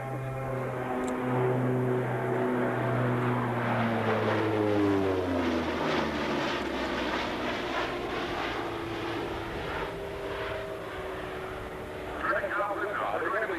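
E-2C Hawkeye turboprop aircraft on landing approach, a steady, loud propeller and engine drone with tones shifting downward in pitch as it passes, under continuous talk from a person.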